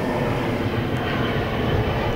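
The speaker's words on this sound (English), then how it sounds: "Airplane." An airplane flies overhead during a church sermon, a steady, even broadband roar that fills the whole stretch without rising or fading, with no speech over it.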